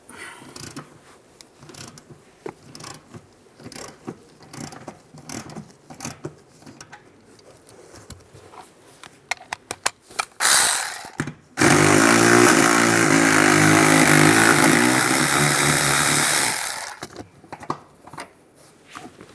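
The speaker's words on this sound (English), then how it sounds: "Now using an E14 socket, we're going to take this bolt out right here, loosen that up" Power tool driving an E14 socket on a bolt of a 2007-2013 Chevy Silverado, a loud steady whirring burst of about five seconds after scattered clicks and handling noises.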